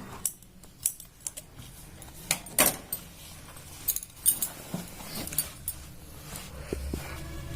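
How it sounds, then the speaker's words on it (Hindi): Scissors snip loose threads on a pair of jeans being repaired, quiet, close, irregular clicks and cuts spread over a few seconds with soft handling noise between them. "इसको हम ऐसे कैंची की सहायता से छाट देंगे"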